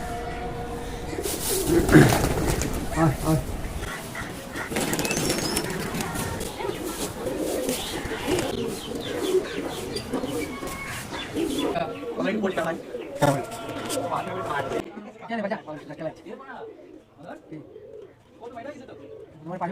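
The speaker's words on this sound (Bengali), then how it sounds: "কবুতরগুলো ওদিকে এখন খাবার খাচ্ছে" Pigeons coo softly and repeatedly in a loft as they feed on grain, a low murmuring backdrop with occasional rustles and someone speaking nearby.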